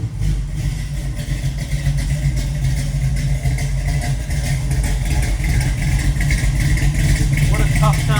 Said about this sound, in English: The car just sounds freaking phenomenal.